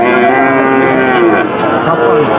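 At the Satmile cattle market in Bangladesh, where bulls and calves are traded, a single bovine lets out a loud, close, drawn-out moo lasting about two seconds, with little talk around it.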